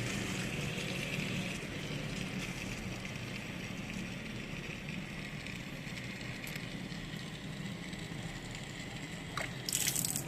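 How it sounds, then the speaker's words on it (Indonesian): Tap water running into a 10 inch RO filter housing, a steady low rushing and sloshing fill heard close and alone, with a brief sharper splash near the end. "Saya buka keran, saya isi air dulu sampai penuh."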